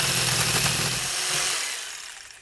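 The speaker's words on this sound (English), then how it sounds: "Lots of sanding." Power sander runs on wood aboard a CT41 ketch, throwing red sawdust, producing a loud steady abrasive whir that fades out at the end, close to the listener.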